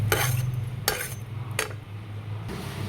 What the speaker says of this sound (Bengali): ধনে, জিরে, আনমোল বাদাম, তারপরে কাজু বাদাম, গরম মশলা, জয়িত্রী, জায়ফল নিয়ে ভালো করে আমি এটাকে ভেজে নেব শুকনো খোলায়।